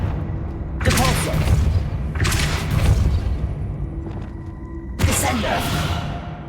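Three heavy whooshing blasts of the Depulso spell in Hogwarts Legacy, each a loud thump with a rushing tail. The blasts are spaced a couple of seconds apart, with quieter game ambience between them.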